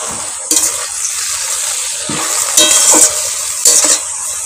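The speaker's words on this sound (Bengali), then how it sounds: "এবার এটা আমি খুলে দেখবো, খানিকটা নেড়ে দেব।" Kharkol leaves being stirred in a covered cooking pot, a steady close sizzle with several louder scraping stirs of the spoon against the pan, no talking.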